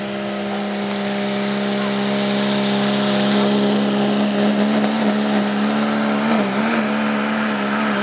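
A diesel truck competing at a 2014 truck pull event at Gaston Lions Club Park, its engine roaring loud and steady at high revs for the whole stretch, a sustained droning pull with slight pitch wavering near the end.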